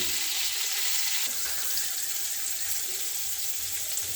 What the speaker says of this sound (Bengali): পটলটা ভালোভাবে ভেজে নেব।